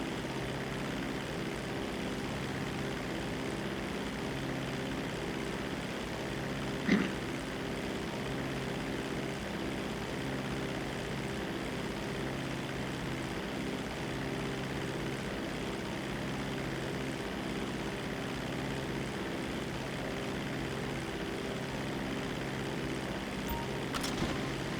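A seaplane in GTA Online flies on, its steady propeller engine drone holding at a constant moderate level for the whole stretch, with one brief click partway through.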